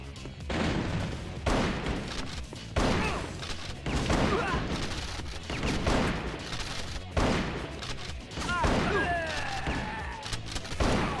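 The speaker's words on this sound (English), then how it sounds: "Shotgun damage kind of leaving something to be desired here." A shotgun in a GameCube game fires again and again, each loud blast cracking in a steady rhythm about a second apart, with game action and faint voices between the shots.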